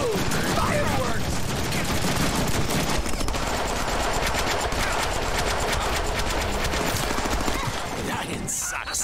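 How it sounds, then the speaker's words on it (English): Sustained machine gun fire in the Deadpool video game on PS3, a loud dense stream of rapid shots running almost unbroken for the whole stretch, with a brief break near the end. "Now I have a machine gun!"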